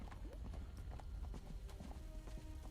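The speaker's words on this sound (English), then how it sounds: "Let's get on my horse." Horse hooves clip-clop in a steady rhythm as a mounted character rides through the fantasy game Neverwinter, the clattering steps loud and continuous over ambient game background sound.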